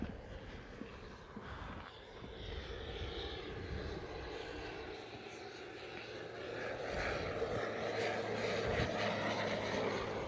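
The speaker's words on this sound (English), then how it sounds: "That big plane is coming. I'm going to wait. It's a little low." A big airplane flying low overhead near an airport, a steady broad engine roar that fills the whole stretch and swells louder toward the end, with no talk over it.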